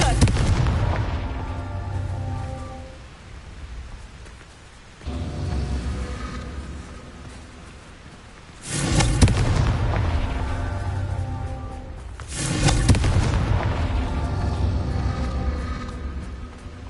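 Confringo spell explosions in the video game Hogwarts Legacy, loud booming blasts recurring every few seconds, each followed by a long rumbling decay under a steady background bed.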